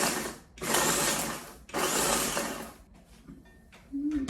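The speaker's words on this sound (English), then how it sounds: "We will grind. This is my little like mini food processor." A mini food processor grinds peach waste left from canning in two loud, close whirring bursts with a brief pause between, followed by quieter rattling and a short final whir.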